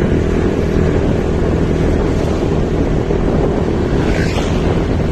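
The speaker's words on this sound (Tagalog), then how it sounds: "Medyo mahangin lang." Strong storm wind buffets the microphone outdoors in a typhoon, a loud continuous roar and rumble that carries on unbroken without a pause, alone with no voices.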